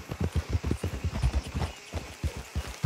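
Horse hooves clip-clopping along a road in the Red Dead Redemption 2 video game, a quick, steady series of close, fairly loud hoofbeats with no talk.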